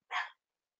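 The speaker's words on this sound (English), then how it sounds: "that's one of my dogs in the back." A single short bark from a dog in the back of the room, brief and moderately loud, with silence after it.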